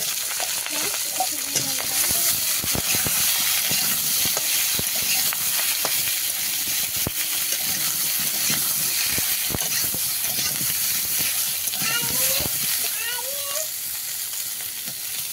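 Sliced potatoes and green banana fry with reddened onion and green chilli for a fish-head curry, making a loud, continuous close-up sizzle with occasional scraping from stirring.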